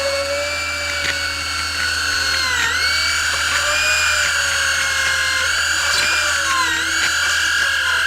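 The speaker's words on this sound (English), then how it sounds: "I'll just drill into a healthy tooth until I reach the pulp" A steady high-pitched whine from a small dental drill keeps going nearly without a break, with slight pitch wobbles and a low hum underneath.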